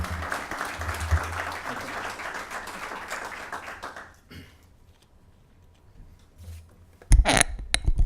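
Audience applause welcoming a speaker to the stage at a policy talk, a steady sustained clapping from a full room lasting about four seconds before fading into quiet murmur and rustling.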